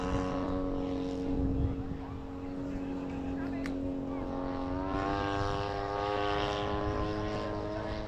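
Model airplanes at an annual airshow and fun fly drone steadily overhead, a continuous buzzing engine tone that shifts pitch midway as a plane changes speed, with faint talk in the background.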